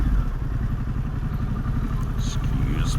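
A 2022 Harley-Davidson Pan America 1250 Special engine hums steadily at low speed, fairly close, while filtering past a car whose engine runs nearby, with some light clatter.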